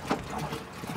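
Water poured from a jerrycan into a storage tank during a drought in Sicily, a brief close splashing gush with a trickling, gurgling texture that lasts about a second.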